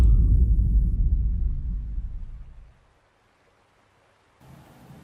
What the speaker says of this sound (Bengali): বাইরে টিপটিপ করে বৃষ্টি শুরু হলো মেঘ ডাকছে